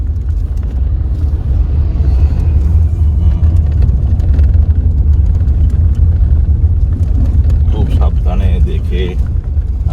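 A vehicle bounces along a rocky offroad mountain track on the Pokhara to Jomsom route in Nepal, with a constant loud rumble and scattered knocks and rattles throughout.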